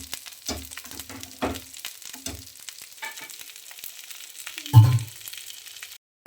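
Bangude (mackerel) fish tawa-frying in a pan with a soft sizzle, broken by intermittent knocks and scraping of a utensil, including one heavier clunk near the end.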